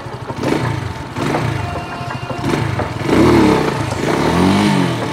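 An X88 Classic 150cc motorcycle engine running up close, its mid-pitched drone rising and falling in waves with some mechanical clatter, and no one speaking.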